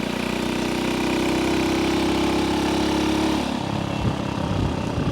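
A vintage 1964 Honda C200 motorcycle running, its small engine putting out a steady buzzing drone that drops away partway through as the revs fall, loud and close with no voices.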